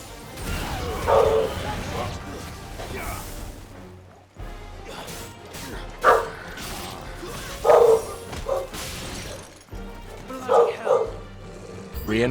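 A dog barks in short bursts several times within Final Fantasy XVI game audio, heard amid background music and battle sounds with voices talking.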